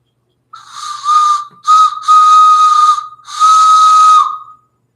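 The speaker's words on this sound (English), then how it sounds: "At least I found my whistle." A breathy wooden whistle sounds in four blasts of varying length, with a short gap between each, loud and close, with a hissing airy tone.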